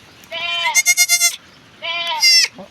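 Two loud, close goat bleats, each a wavering harmonic cry with a rising middle pulse, from a young doe that has just given birth, separated by a short pause.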